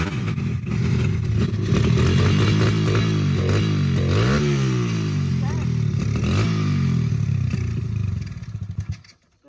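A Honda CRF100 dirt bike engine runs continuously on the last fuel left in its carburetor, a loud steady close-up idle with a few revving swells that sputters and cuts out near the end.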